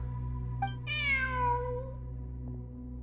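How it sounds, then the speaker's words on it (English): A cat meows once in a video game cutscene, a clear drawn-out mew rising then trailing off over a low steady background hum, with no talking. "Look! A cat!"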